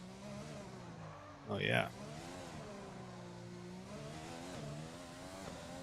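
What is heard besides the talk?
F1 car engine in video game F1 2020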